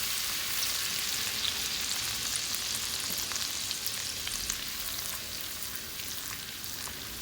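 Minced garlic sizzles steadily in a pan while cooking for chicken wings, a soft, constant frying crackle with no talking.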